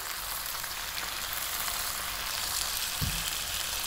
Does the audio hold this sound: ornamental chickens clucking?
no